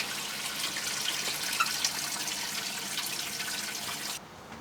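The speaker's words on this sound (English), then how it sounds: "Faucet on." Water runs steadily from an opened faucet aboard a 1976 Tayana 37 sailboat, a close continuous hiss and splash that drops off abruptly near the end.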